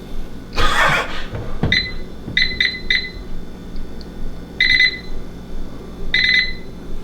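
Electronic timer alarm beeping in short repeated bursts, several groups of high chirps spread across a few seconds, with a brief handling knock and background room noise but no talk.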